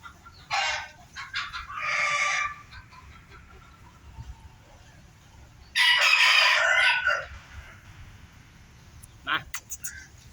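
Bantam chickens and a rooster crow in bursts, with clucking between calls, close and loud, while someone talks in between.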